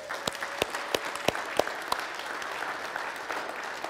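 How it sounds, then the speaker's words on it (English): Scattered claps from a church congregation clapping for God, with a few sharp individual hand claps standing out over a diffuse, moderate wash of room noise. "Let's clap for God."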